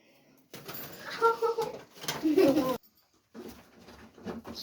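Tumbler pigeons coo in a coop in short, soft bursts separated by brief pauses, with quiet rustling and a faint human voice in the background.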